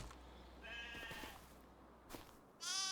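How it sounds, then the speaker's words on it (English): Sheep bleat in the farming video game Farming Simulator 25, a couple of wavering cries over a steady low background hum, fairly close and moderately loud, with no talking. "let's go take a look at our little sheep"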